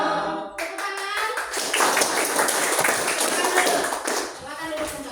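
Classroom applause from a group of students, a dense burst of clapping that starts abruptly after a short spoken line and carries on steadily for several seconds, with a few voices mixed in.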